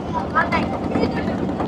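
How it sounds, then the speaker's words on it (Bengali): A large cargo trawler on a haor river passing another trawler, its low engine drone rumbling steadily close by with wind buffeting the microphone. "অনেক বড় একটি ট্রলার অতিক্রম করলো আমাদের ট্রলারটিকে"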